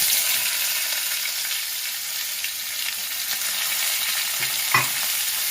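Cumin, fennel, panch phoron and mustard seeds fry in hot oil for a starfruit pickle, a loud, steady sizzle heard up close with a brief stir-clink near the end and no voices.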